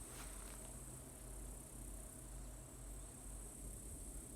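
Bees swarming around hive boxes and a frame trap, heard as a faint continuous buzzing hum with a steady high whine, distant and alone.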